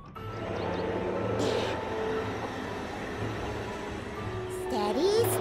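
Animated toy train Titipo pulls away along the rails, a steady low rolling rumble carrying on throughout with a brief rising whistle-like tone near the end.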